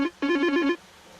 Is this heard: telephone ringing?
yes